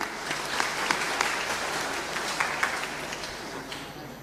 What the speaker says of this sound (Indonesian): tepuk tangan mahita